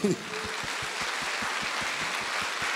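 A church congregation claps in a steady, even rhythm that continues throughout, after a brief voice at the very start.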